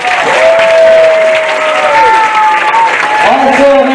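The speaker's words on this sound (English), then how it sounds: "Give them a round of applause." Crowd applause at a high school football event fills the clip as dense, loud clapping, with voices and cheers riding over it throughout.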